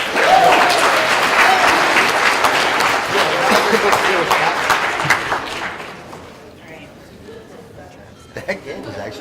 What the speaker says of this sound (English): You guys are the winners. Round of applause.